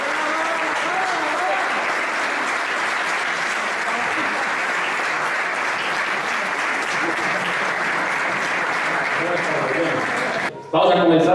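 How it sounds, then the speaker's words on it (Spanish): Sustained, steady applause from an audience at an award ceremony, dense and close for over ten seconds before a brief break near the end. "fuerte aplauso"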